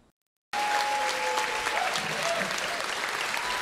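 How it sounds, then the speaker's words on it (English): Studio audience applause on a radio show breaks out after a brief silence and holds as a steady, dense clapping wash at moderate level, with no voices over it. "I'll take that applause and give it to Art Bell"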